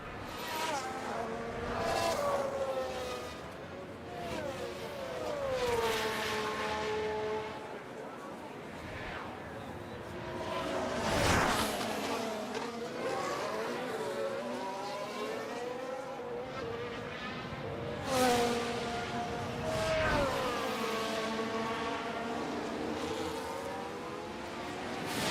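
F1 race cars in F1 Manager 24 at Abu Dhabi, a fast McLaren closing in, heard as repeated high engine whines that rise and sweep past in several waves, fairly faint, with voices talking over them.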